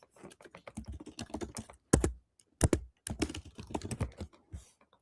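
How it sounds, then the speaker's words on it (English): Rapid clicks of a clicky mechanical computer keyboard being typed on up close, coming in irregular bursts with short pauses and no voices. "I like your clicky keyboard."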